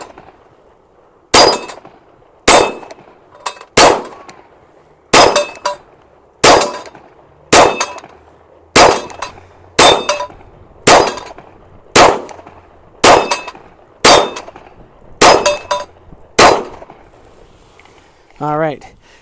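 Palmetto State Armory Dagger Micro pistol fires about fourteen sharp shots at a range, each followed by a ringing clang from steel targets, spaced roughly a second apart with brief pauses.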